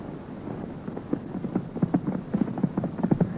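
Galloping horses made as a 1930s radio drama sound effect: a quick, uneven clip-clop of hooves that grows slightly louder and busier toward the end, with faint wind-like noise beneath.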